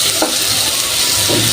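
Potatoes frying in a pan, a close, loud, continuous sizzle with a couple of soft stirring scrapes, heard alone.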